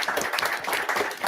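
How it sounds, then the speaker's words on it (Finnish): Audience applause at a construction-industry startup pitch event, a dense steady wash of many hands clapping together, fairly loud and continuous throughout. "annetaan vielä Laurille aplodit"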